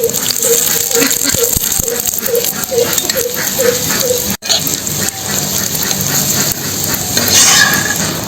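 Parathas frying in oil in a pan: a steady sizzle under scraping and stirring, with a rhythmic low tapping in the first half and a brief break midway, close and fairly loud throughout.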